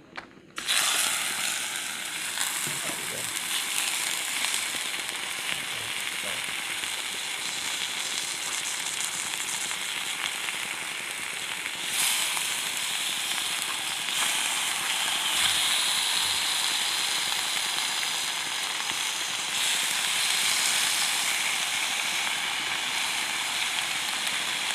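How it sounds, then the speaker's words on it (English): Bacon strips sizzle and crackle steadily in a new frying pan, a loud continuous hiss starting abruptly as the meat is laid down and holding throughout. "let's get the first bacon down into the pan"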